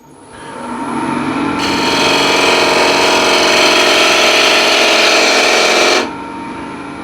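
A ball gouge cuts across the grain of wood spinning on a lathe, giving a steady, loud, close scraping whir that builds in and holds for several seconds before easing back to the motor's hum.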